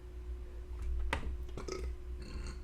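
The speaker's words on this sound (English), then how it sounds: "Excuse me, I burped." A single short burp sounds over a quiet room with a steady low hum during a chess game analysis, a soft throaty release followed by faint small noises.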